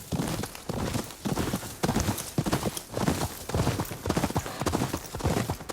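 Horse hooves clip-clop steadily in Ghost of Yōtei, a quick regular rhythm of close hoofbeats running the whole time over a soft ambient bed.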